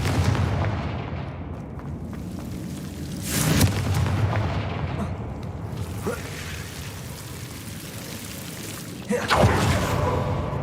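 Confringo spell blasts in the Hogwarts Legacy video game: three separate booming bursts, each a sharp, loud crack that fades over a second, spaced a few seconds apart over a low ambient rumble.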